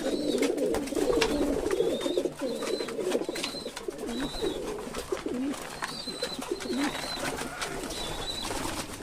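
Pigeons coo repeatedly at close range with rhythmic throaty calls, joined by scuffling and wing flaps as two birds fight, a continuous busy flock sound with no talking.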